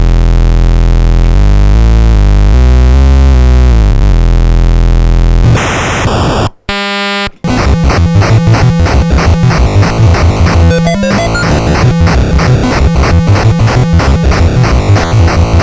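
Loud, buzzy Atari 2600 chiptune music with square-wave tones stepping through a repeating 64-step sequence, cutting out briefly before a busier, glitchy pattern resumes.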